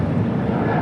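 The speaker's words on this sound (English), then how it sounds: "It's an A320 Neo." Airbus A320neo jet engine roar at LAX, a steady broadband rumble close by and loud, filling the moment with no gaps or voices.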